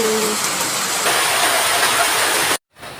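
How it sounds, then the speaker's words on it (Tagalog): Steady heavy rain pours in a dense, loud hiss that fills the scene, with the sound cutting out abruptly near the end before faintly returning. "ini-enjoy ko na lang yung ulan"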